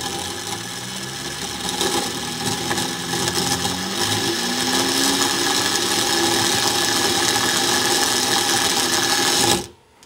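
A Bedini SG schoolgirl motor run from a 12-volt gel cell battery whirs steadily as it spins up, a constant mechanical drone with rising tones that holds for about nine seconds before cutting off abruptly.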